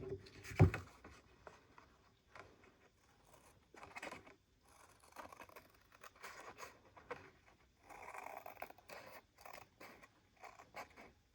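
Design paper is trimmed for a patchwork card, giving soft scratchy cutting strokes in several short, quiet bursts with gaps between them.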